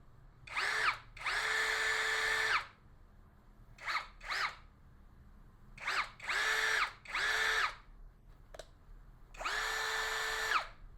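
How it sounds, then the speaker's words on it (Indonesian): An APR AP17+ cordless impact drill at speed 1 whirs in a series of bursts, some long and steady, others short quick blips, each with a rising and falling whine, close and fairly loud. "Sekarang kita tes seperti apa bunyi dari bore impact 500 ribuan"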